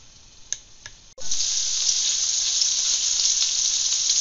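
Onions dropped into a hot frying pan with farmer sausage and butter burst into a loud, steady sizzle after a couple of faint clicks, the hiss staying strong and continuous to the end.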